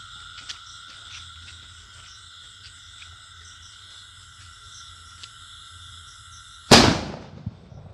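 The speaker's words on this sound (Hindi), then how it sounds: "देखिए बहुत ही बढ़िया टाइप का टाइगर बम है ये।" A Tiger bomb firecracker set off during Diwali cracker testing: a long stretch of quiet outdoor insect and frog chirping, then one loud sharp blast near the end that rings and fades.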